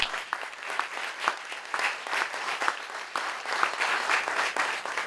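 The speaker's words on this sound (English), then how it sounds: "please give Margaret a round of applause" An audience at a commemoration of the Battle of Fort San Carlos gives a round of applause, moderately distant, steady clapping with scattered sharper claps across the few seconds.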